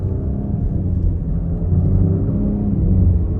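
A 2023 Nissan Rogue S AWD's turbocharged three-cylinder engine pulls at half throttle from a standstill, a steady low droning rumble that swells slightly as it builds, heard from inside the cabin with no talking.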